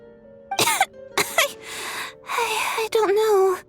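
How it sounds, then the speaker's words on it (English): A female character in Genshin Impact coughs and clears her throat in several short, rough bursts, followed by a faint strained vocal groan, heard close and alone over a quiet game background. "How long have you had that cough, Tonya?"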